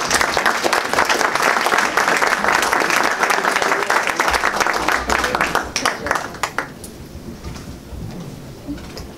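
An audience at a students colloquium applauds as a speaker is welcomed to the stage, a loud, dense burst of clapping that holds steady and then fades away over the last few seconds.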